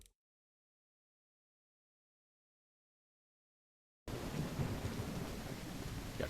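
After a stretch of near silence, steady rain and rolling thunder from the Call of the Elder Gods video game rise suddenly and continue as a dense, even downpour with low rumbling beneath.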